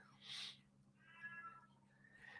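A house cat gives a few short meows and chirps in quick succession, fairly faint against a low steady hum indoors, and nobody talks.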